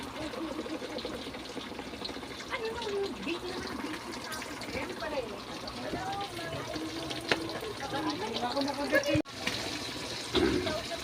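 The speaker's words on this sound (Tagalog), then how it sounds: "Pitsang gala, dami ko ng talsik na mantika." Pork frying in hot oil, spattering and sizzling steadily with dense crackle, close up, as someone talks over it in Filipino.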